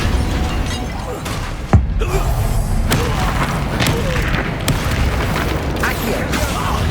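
Booming spell blasts and thuds in the Hogwarts Legacy video game, a fiery Confringo explosion among them. They burst loudly over a dense, continuous din of combat noise with voices.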